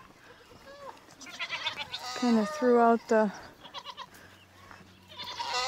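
Goats bleat in a goat shed, several loud wavering calls in quick succession up close, with someone talking softly before and after them.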